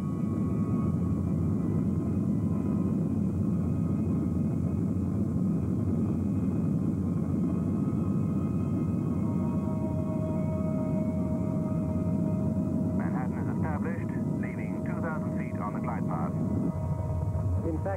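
British Airways airliner flying and landing: a steady, loud engine drone runs throughout beneath a voice, and a sustained tone and some warbling sounds join in the last few seconds.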